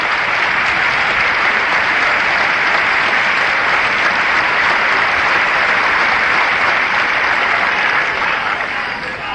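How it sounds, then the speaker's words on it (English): Steady, dense applause from a large crowd at the 1973 US Open tennis final between Jan Kodes and John Newcombe, continuous and full throughout, easing slightly at the very end. "we're hearing a little cheering section coming from the Czechoslovakian fans of Jan Kodes"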